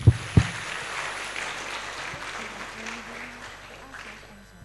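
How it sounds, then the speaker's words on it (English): Applause from the audience at an embassy lecture, fading over a few seconds after two sharp knocks at the start, with a low hum and faint voices in the room. "Please welcome Mr. Andri to the stage. Please give him applause."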